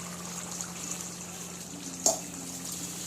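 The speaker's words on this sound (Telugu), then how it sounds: "ఇట్లా నూనె తేలినప్పుడు వాటర్ పోసుకోండి" Water is poured into a pot of dosakaya (yellow cucumber) mutton curry, giving a quiet, steady trickling wash with one brief splash near the middle.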